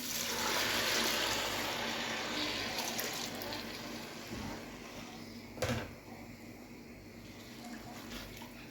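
Water poured into a hot pan of sautéed rice for fish with sayadieh rice, a broad hissing, rushing wash loudest at the start and easing off, with a brief clatter midway.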